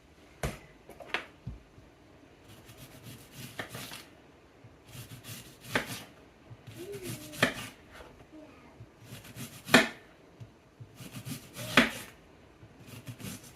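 A knife dicing beets for honey pickling on a cutting board, giving a series of crisp, separate chops at irregular intervals, close and fairly quiet.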